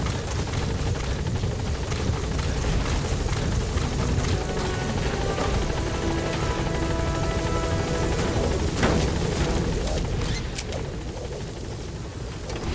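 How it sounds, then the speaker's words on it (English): Helicopter arriving in the video game Metal Gear Solid V: The Phantom Pain, a steady loud rotor drone that holds for the whole stretch and eases slightly near the end, with no talk. "helicopter has arrived."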